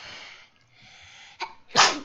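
A single sharp sneeze bursts out near the end, preceded by a quick intake of breath and quiet shuffling background.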